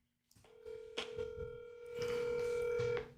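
Telephone call being placed, with a dial tone and dialing tones sounding as a steady tone under brief clicks and beeps, fairly clear and alone with no talk.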